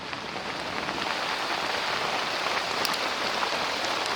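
Steady heavy rain mixed with hail pelting a surface at a campsite in Normandy, a dense continuous patter with a few sharper ticks near the end, no voices.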